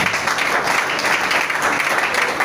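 A church congregation claps and applauds together in a dense, continuous wash of hand claps, loud and sustained throughout.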